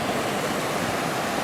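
Stream water rushing steadily near a campground in a burned California forest, a continuous broadband wash with no break, close and fairly loud, with nobody talking.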